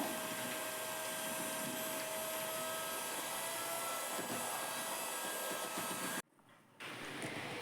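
An electric mixer beats butterscotch cake batter with a loud, steady whirring drone, cutting out abruptly and then restarting at a lower level for the final second.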